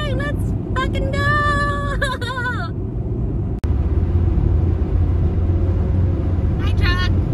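A car cruising on the road with a continuous low rumble of engine and tires from inside the cabin, while a voice talks briefly at the start and again near the end.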